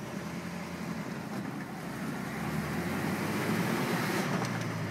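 A 1935 Packard Eight Phaeton pulling away in first gear, a low, smooth engine hum rising gently in pitch beneath steady wind and road rush, heard from inside the open car.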